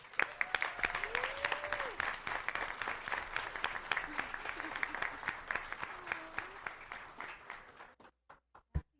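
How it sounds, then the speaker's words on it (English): Meeting audience clapping for two spelling bee students and their coach, with sustained crowd applause and a voice speaking over it, thinning to a few last scattered claps. "give them a hand clap"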